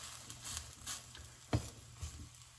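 A cauliflower omelette sizzles softly in a pan just after being flipped, a low steady fry with a sharper spatula scrape or tap midway, fairly quiet and with no voices.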